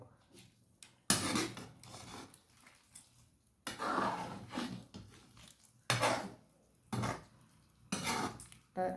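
Metal utensils clink and scrape against a pot of chicken curry in several separate bursts of stirring, close up, with quiet gaps between.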